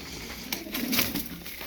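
Hungry Çapar tumbler pigeons give a brief, soft coo, near but faint, with no voices.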